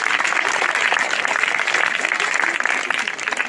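A congregation at a church meeting claps loudly and continuously, a dense, sustained wash of many hands filling the room without a break.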